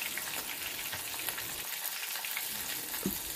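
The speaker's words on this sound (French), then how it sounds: "Après 7 minutes de cuisson à feu vif, donc je vais venir retirer mon poisson." Sea bream frying in hot oil over high heat, a steady close sizzle and crackle with a brief clink near the end, no voices.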